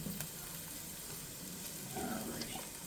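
Onions sauté in a pan for Louisiana-style jambalaya, a faint, soft sizzle running steadily with light scraping of a utensil as they are moved around.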